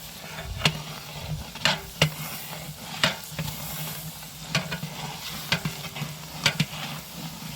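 Chilies, curry leaves and onions sizzle in a frying pot for a community biryani, a steady hiss under repeated sharp stirring clatters from a spoon against the pot.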